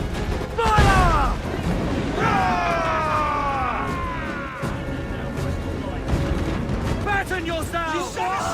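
Ship cannons fire during a naval battle in Assassin's Creed IV Black Flag, heavy booming blasts rolling out over creaking and battle noise, while crew voices shout through the fighting.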